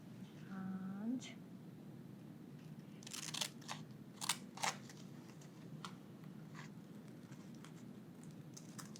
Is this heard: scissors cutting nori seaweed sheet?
yes